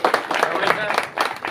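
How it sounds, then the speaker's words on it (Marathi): Clapping from an audience at an alumni reunion gathering at Mahalingeshwar Vidyalaya school in Khudus, a steady patter of hands mixed with voices talking over it. "सर्वांनी टाळ्या वाजवाव्या."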